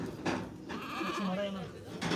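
Goats bleat at a weekly livestock market in Dhanaula, Punjab, with several wavering calls close by, mixed with crowd chatter and people talking throughout.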